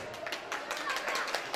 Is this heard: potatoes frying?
no